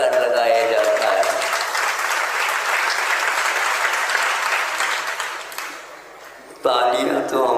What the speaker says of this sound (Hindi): तालियां तो हमने बहुत सुन ली,